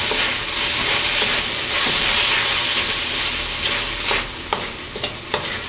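Shrimp and noodles frying and being stirred in a hot pan, a loud continuous sizzle and hiss with a few sharp scraping clicks of the utensil toward the end.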